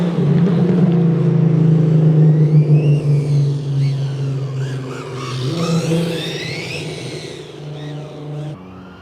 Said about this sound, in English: Try to show you that backfire going into the corner.